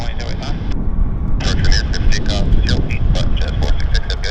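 A WestJet airliner taxis at Vancouver Airport, its loud, steady jet engine roar and whine close and continuous, with someone talking over it throughout.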